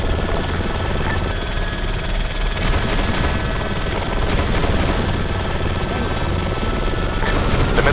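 Helicopter gunfire in Arma 3: a steady, close rotor-and-engine roar runs throughout, with bursts of rapid automatic fire breaking through in several short volleys.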